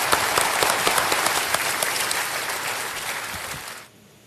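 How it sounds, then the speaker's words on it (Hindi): Loud, dense audience applause for a guest of honour at a stage event, sustained clapping from a large crowd that tapers and cuts off near the end. "सो कर्नल वेम्बू शंकर के लिए तालियां बज जाएं एक बार।"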